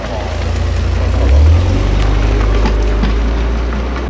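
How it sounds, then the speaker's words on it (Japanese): A tuned 300 hp Toyota GR Supra running at Tsukuba circuit produces a loud, steady engine drone with a brief surge in the middle, heard from inside or close to the car. "それではスープラのチューニングカー行ってみたいと思います"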